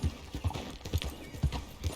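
Horse hooves clip-clopping in the video game Red Dead Redemption 2, an even, close trotting rhythm of about two hoof beats per second, fairly quiet and heard alone.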